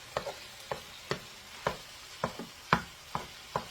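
Ground turkey frying in a pan is stirred in regular scraping strokes about every half second, each stroke a sharp close scrape over a low, steady sizzle, with no one talking.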